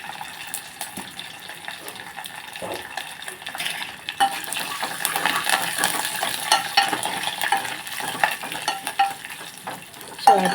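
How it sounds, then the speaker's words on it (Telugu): Garlic tempering for South Indian rasam crackles and sizzles steadily in hot oil, with stirring and a few utensil clinks; the frying grows louder and denser midway and continues without talk. "ఇప్పుడు మనం తాలింపు వేసేసుకుందాం చారుకి"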